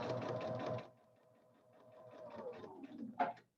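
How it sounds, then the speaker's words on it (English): A sewing machine stitches a throw pillow in a short quiet burst, its rapid mechanical patter running briefly before stopping, then resuming faintly with a few light clicks. "I'm just going to sew it till I meet up"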